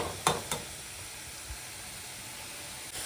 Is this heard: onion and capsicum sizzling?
yes